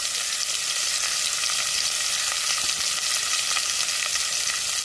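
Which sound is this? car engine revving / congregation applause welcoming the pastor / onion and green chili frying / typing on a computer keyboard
onion and green chili frying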